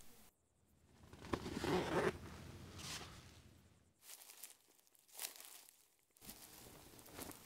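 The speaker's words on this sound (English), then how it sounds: "A clever little addition is this small zipper at the bottom of the tent" A small zipper at the bottom of a canvas stove tent is pulled in several quick runs, each a close, raspy zip separated by short pauses and rustling of fabric.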